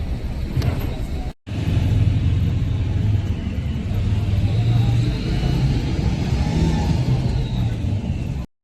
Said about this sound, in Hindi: ये गाड़ी चल दी है।